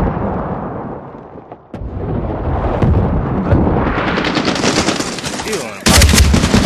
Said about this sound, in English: And he's shooting me from the pipe.